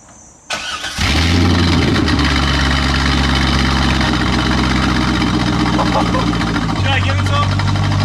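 A car engine with its exhaust removed cranks and fires up loudly after a brief quiet moment, then settles into a harsh, throbbing idle that stays very loud and close before the pitch steps up slightly near the end.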